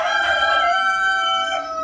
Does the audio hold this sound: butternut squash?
no